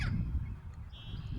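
A seagull gives a short honking call, close and moderately loud, with a thinner high cry following it against a low background rumble.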